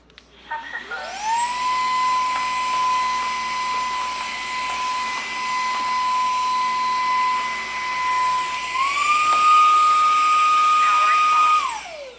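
A Dreame H12 Pro cordless wet dry vacuum cleaner running in ultra suction mode, a loud steady motor whine that spins up, holds, then shifts up in pitch before winding down.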